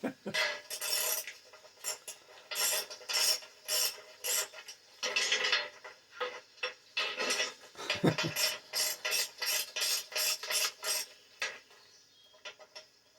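Rapid ratcheting and rasping from a wrench tightening a bolt on the subframe of a 2005 GM J-body Sunfire/Cavalier, in repeated close bursts with brief pauses.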